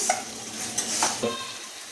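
Ground spices with a little turmeric, tomato and chilli powder being lightly sautéed and stirred in a pan. The broadband sizzle is steady and close, broken by a few sharp scraping strokes of the spatula, with no voices.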